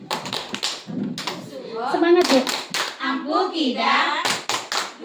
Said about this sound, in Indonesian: Boleh tepuk tangan untuk semuanya yang hadir di sini.